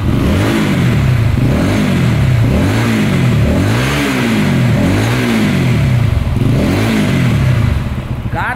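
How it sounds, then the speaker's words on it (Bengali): A LiFAN KPT 4v motorcycle engine runs close by and is revved repeatedly in a steady rise-and-fall rhythm, loud, and drops toward idle at the end. "গাড়িটার ইঞ্জিনের সাউন্ডটা একটু শোনাই"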